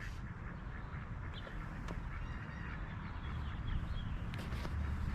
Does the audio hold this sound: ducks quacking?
yes